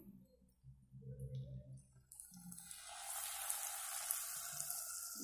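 Battered tempeh slices frying in hot oil, a steady broadband sizzle that swells and grows louder partway through, with some low clatter at the start and no voices.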